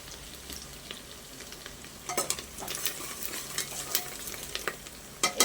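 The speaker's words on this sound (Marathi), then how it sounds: "थोडीशी कोथिंबीर आपण ह्याच्यावरती फोडणीवरती घालूया" Hot oil sizzles softly in a pan as coriander leaves go into the tempering, then a spoon scrapes and taps as it is stirred, with a few sharper metal clinks.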